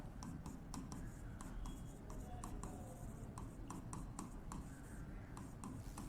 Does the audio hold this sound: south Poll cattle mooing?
no